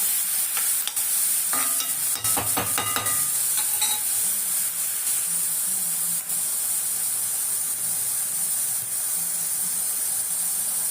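Onions sauté in a pan for a gravy, with a loud continuous sizzle and hiss close up and a burst of spatula scrapes and clinks early on.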